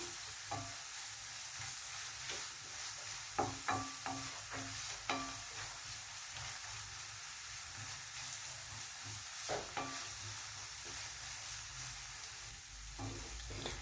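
Sliced onion sautés with ginger garlic paste and chopped green chilli in a pan, giving a soft continuous sizzle broken by scattered spatula scrapes and knocks, close but fairly quiet.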